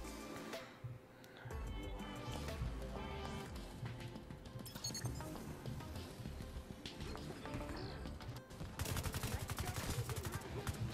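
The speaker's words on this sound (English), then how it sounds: "so you guys can actually hear what I mean about the gunfire" Dense rapid gunfire and bursts from a third-person shooter, The Division 2, crackling loudly and almost continuously with heavier volleys near the end, mixed with game effects.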